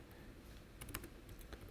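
A computer keyboard tapped in a brief cluster of light clicks as Shift and the minus key are pressed, close and soft, following a quiet stretch.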